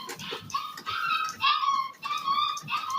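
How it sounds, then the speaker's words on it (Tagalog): A puppy whimpers in a series of thin, high whining cries, each short and repeated with small pauses, fairly close by. "Medyo mahina yung tuta ko."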